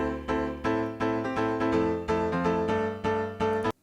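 Grand piano chords in a UK house style are played in a rhythmic pattern, their notes rolled slightly apart rather than struck together, ending abruptly after a few bars.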